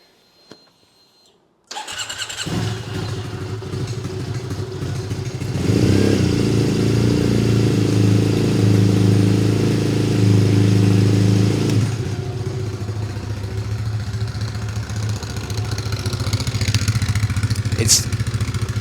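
A Bonneville motorcycle engine starts abruptly and settles into a loud, steady idle nearby, the exhaust note throbbing with a rough, rattly edge throughout from an exhaust rattle.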